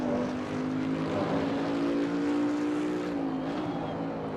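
A Bentley race car engine in Assetto Corsa Competizione drones steadily and loudly, its pitch climbing gently under acceleration and then easing off near the end, with no talking.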